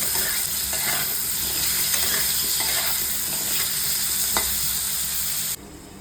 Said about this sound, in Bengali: জাস্ট নুন দিয়ে হালকা ভাজা ভাজা করে নেব। আলুটা হালকা ভাজা হলেই নামিয়ে নেব।